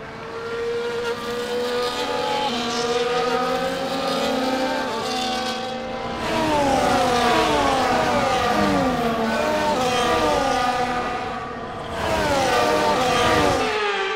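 Formula 1 race cars in F1 24 rolling through a formation lap at the Canadian circuit, a steady layered engine drone with several cars whining and shifting together, loud and continuous with no talk.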